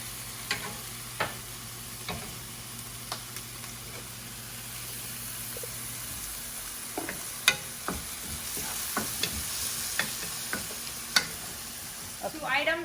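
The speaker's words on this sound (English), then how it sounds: "And then we're just gonna put all over the green onion and the garlic." Green onion and garlic fry in an oiled pan with a soft, continuous sizzle, punctuated by scattered spatula taps and scrapes that grow more frequent in the second half.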